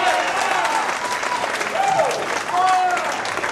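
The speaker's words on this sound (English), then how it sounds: "Another round of applause for Richard." Sustained audience applause at a recovery alumni event, a dense wash of clapping hands filling the room, with a few cheering voices rising over it throughout.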